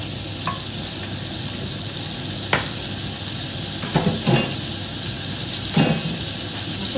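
Garlic fries in a pan with a steady, dense sizzle throughout, broken by occasional clinks and scrapes of a utensil stirring against the pan.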